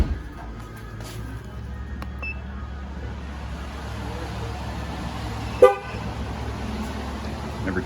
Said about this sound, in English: Every time you train the sensor, the car is going to beep